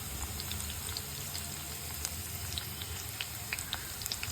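Chopped onion fries quietly in a pan for Bengali chicken kosha, a faint, steady sizzle dotted with small crackling pops.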